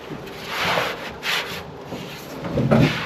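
Hand sanding with 80 grit sandpaper on a wooden surface: several rough, rasping back-and-forth strokes, close and fairly loud, with no talking.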